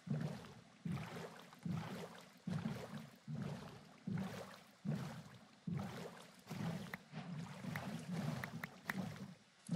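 A boat moving across water in Minecraft: rhythmic, evenly spaced paddling swooshes, repeating about every second, soft and steady with no talk.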